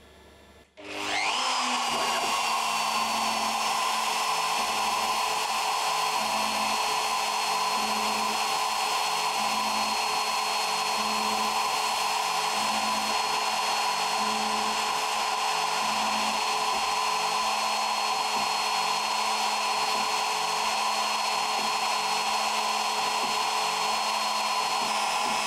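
Engraving machine running steadily on plexiglass pieces, a loud continuous whine with a high tonal hum and faint rhythmic pulsing underneath, starting abruptly after a brief quiet moment and holding alone throughout.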